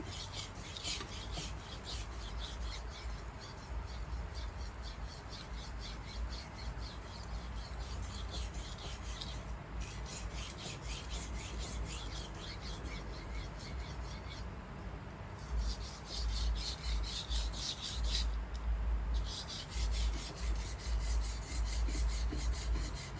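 A steel knife rasps rhythmically against a Phuket mudstone whetstone in repeated strokes, a steady gritty scraping heard close up with no voices.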